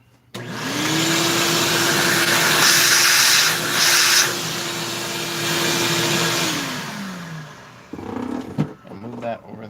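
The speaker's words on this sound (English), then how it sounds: "you take a perfectly good tap and you grind on it so it's flat" A perfectly good tap being ground flat on a grinder, a loud continuous whine and hiss holding steady for several seconds before winding down, followed by someone talking.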